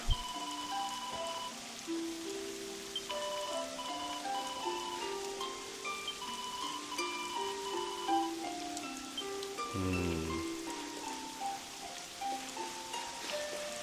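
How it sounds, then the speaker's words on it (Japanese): Rain falls steadily in Dragon Quest XI S, a soft continuous patter beneath layered game music with sustained tones, holding at an even level throughout with no voices. "雨降ってる。"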